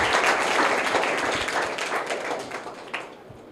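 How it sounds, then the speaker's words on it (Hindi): An audience at a private school prize ceremony gives a prize winner a dense round of clapping that starts strong and slowly thins out toward the end. "इनके लिए जोरदार तालियां हो जाएं"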